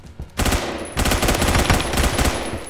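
Rapid automatic gunfire from the Roblox shooter Phantom Forces, a short burst followed after a brief gap by a longer sustained stream of loud, dense shots, with no talk.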